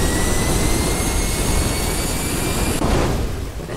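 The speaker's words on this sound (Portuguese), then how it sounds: "E ele liga a turbina, ó." Jet turbine of a rocket vehicle in a GTA V mod, a loud continuous roaring whoosh held steady throughout, briefly surging near the end.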